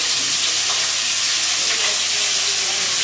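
Eggs fry in a wok (kadai) with a steady, close hiss and sizzle of hot oil that continues evenly without pause.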